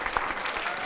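Audience applause at a stand-up comedy show, a dense, steady wash of clapping from a crowd with no voices over it.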